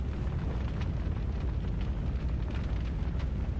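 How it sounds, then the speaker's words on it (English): A fire burns in a firing range in Borderlands 3, heard as a steady, dense crackling roar with no pauses. "my firing range is still on fire"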